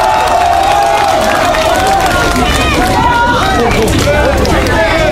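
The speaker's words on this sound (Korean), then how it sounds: "우리 박수로 환영하십시다." A large outdoor crowd at a patriotic political rally in South Korea claps and cheers loudly, a dense wash of applause with voices calling out over it.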